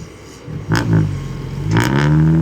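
A car engine drones and rises in pitch as it revs under load on a steep climb, close and fairly loud, with a brief voice in the background.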